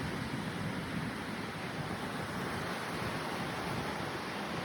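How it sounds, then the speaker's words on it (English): Strong wind roars steadily across a Florida beach, a dense, unbroken rush of buffeting noise that crackles on the microphone, with surf blended into the wash and no voices. "Super windy. The wind's catching it like a kite, believe it or not."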